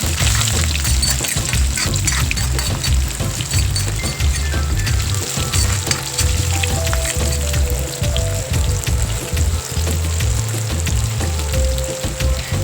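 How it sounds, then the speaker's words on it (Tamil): Small shallots sizzle and fry loudly in hot oil in a pan, a dense steady crackle close by that continues without pause. "வெங்காயத்தையும் போட்டு நல்லா வதக்கி விட்டுடலாம்."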